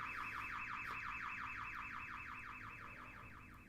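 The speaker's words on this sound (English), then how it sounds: "The alarm blared from all sides." A building alarm blares in a rapid, steady warbling wail, repeating evenly throughout and fading slightly toward the end, rendered as an audio drama effect.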